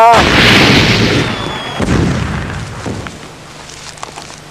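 Gunshot sound effect in a Gacha Life animation: a loud sharp blast with a booming, explosive tail, followed by a couple of fainter thuds as a voice speaks under it.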